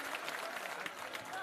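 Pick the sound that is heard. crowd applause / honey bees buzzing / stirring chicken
crowd applause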